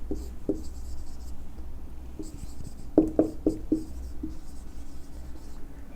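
Handwriting a sentence, likely pen or chalk on a board, with short scratchy strokes and a quick cluster of firm taps midway, close and clear without talk.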